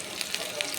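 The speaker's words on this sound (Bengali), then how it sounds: "দেখেন মরিচটা সুন্দর হালকা ভাজা হয়ে গেছে গা" Green chilies fry in hot oil with a continuous soft hiss and faint crackles, heard only for a brief moment.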